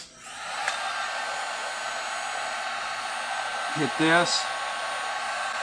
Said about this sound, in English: Let's take our heat gun.